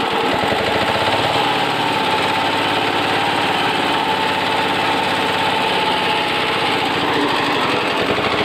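An old repaired engine pump runs steadily in a farm field, drawing water for crops: a loud, continuous chugging drone with a rapid mechanical rhythm that holds unbroken from start to finish, with no voices.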